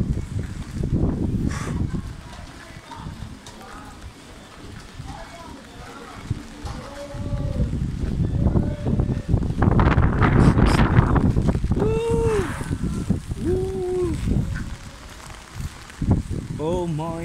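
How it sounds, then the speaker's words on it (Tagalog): Strong gusts of wind buffet the microphone with heavy low rumbling that swells and eases through a city street in Lausanne, while someone speaks intermittently over it. "sobrang lakas ng hangin."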